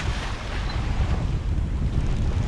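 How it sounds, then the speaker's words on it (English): Strong wind roaring over a sailing yacht at sea in about 17 knots on a beam reach, a steady loud rush with low buffeting and wave wash, no voices. "The wind has picked up"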